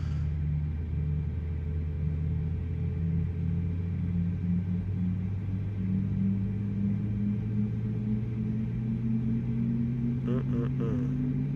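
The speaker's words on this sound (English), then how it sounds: "Those engine start sounds are fantastic." Airbus jet engines spooling up during start in a flight simulator, a steady low rumble with rising tonal whine building gradually and continuously, joined by a brief higher whine near the end, no talk over it.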